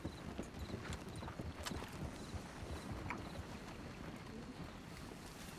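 Horse hooves clip-clop in the Western video game Red Dead Redemption 2 as a dense, quiet, steady patter under a faint windy background and scattered soft sounds.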